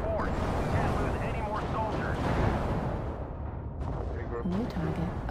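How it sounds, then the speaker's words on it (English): In a mech combat video game, incoming missiles burst in a continuous rumbling barrage of booms and crackling blasts. Voices speak over the din. "Warning, incoming missile."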